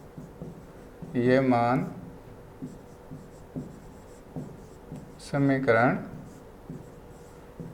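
Marker or chalk strokes scratch across a board as a chemistry equation is written, soft repeated scraping under a teacher's voice talking in Hindi.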